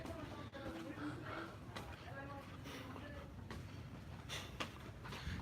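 A train rumbling past inside a shopping mall, a steady low rolling noise with faint rhythmic clatter heard from a moderate distance, with people's voices murmuring beneath it.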